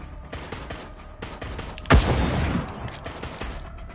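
A burst of gunfire from the video game Resident Evil Resistance, a sharp loud onset followed by a dense stretch of rapid shots that fades over about a second, set against steady game background noise.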